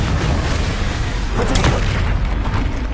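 Heavy booming blasts from explosive spells in the video game Hogwarts Legacy, with deep, rumbling impacts and a sharper crack near the middle, loud and continuous.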